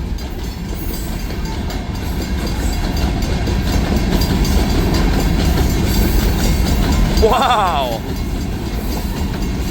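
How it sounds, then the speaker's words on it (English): An Escanaba and Lake Superior Railroad train rushes past at speed, a loud continuous roar with rapid clickety-clack of wheels on rail, while a person briefly exclaims in the foreground. "We got some speed from the Escanaba and Lake Superior Railroad. This thing is flying."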